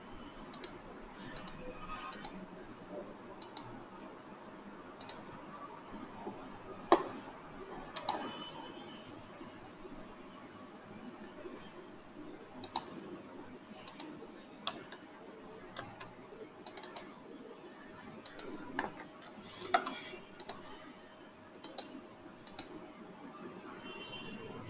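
A computer mouse and keyboard click in an office while a report is built in SSRS, with quiet irregular ticks and taps scattered over soft room noise, close and faint.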